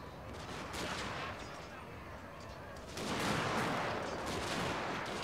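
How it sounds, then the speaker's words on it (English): Line infantry in Total War: Shogun 2 – Fall of the Samurai fire volleys in a distant, continuous crackle of musketry, which swells louder about halfway through, while a voice speaks over it. "You guys can fire at any time."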